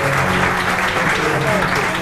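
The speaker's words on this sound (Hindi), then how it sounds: "बहुत सी तालियां मेरे सिंगर से।" Studio audience applauds the singers on a Pakistani weekend TV show, a brief, dense burst of steady clapping with faint talk mixed in.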